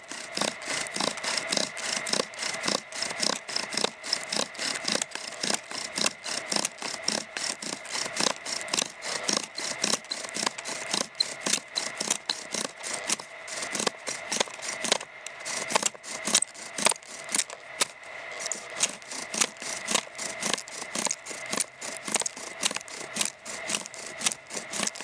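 A bow drill with a horseweed spindle works a fire board, producing a long steady series of rhythmic back-and-forth rasping friction strokes, fairly faint and close with no voices.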